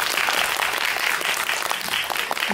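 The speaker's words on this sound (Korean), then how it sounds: "박수 한번 부탁드릴게요" Sustained applause from an audience at a Korean film screening with a guest talk, crowd clapping steadily and densely throughout without pause.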